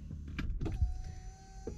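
A car seat motor being adjusted: a few soft clicks and rustles, then a steady electric whine that runs for about a second, close and moderately loud, with no talking.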